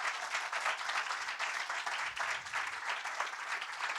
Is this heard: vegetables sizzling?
no